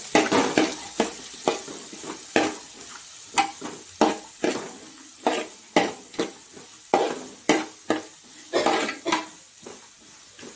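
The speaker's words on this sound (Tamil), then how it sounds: "வெங்காயம் போட்டு நல்லா கிளறி விட்டுட்டுங்க." Onions sautéing in oil for an oil brinjal gravy, stirred with a spoon that scrapes and knocks against the pan in quick repeated strokes over a steady sizzle, close up.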